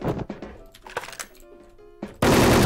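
Video game gunfire in a shooter match: a burst of rapid gunshot cracks up front, a few scattered thuds and shots in the middle, then a dense sustained blast of firing at the end, loud and close.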